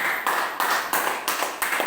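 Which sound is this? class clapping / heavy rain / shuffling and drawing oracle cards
class clapping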